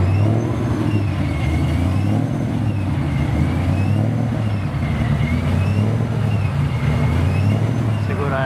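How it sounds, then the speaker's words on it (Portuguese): Supercharged car accelerating hard down a drag strip in an 800-metre run: a loud, steady engine roar with a faint, rising supercharger whine on top, continuous for the whole stretch. "Tá ouvindo a Supercharger, né?"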